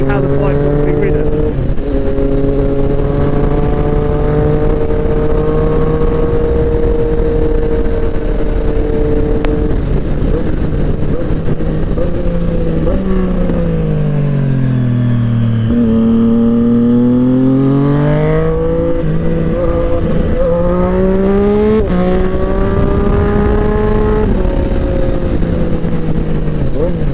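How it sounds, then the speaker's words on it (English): Triumph Street Triple 765 RS motorcycle held in 5th gear at speed on an open national-speed-limit road, its engine note droning loud and steady with pitch dipping and climbing as it slows and accelerates, plus constant wind roar throughout. "now I'm going to demonstrate how capable this bike is, right? So I'm in 5th gear"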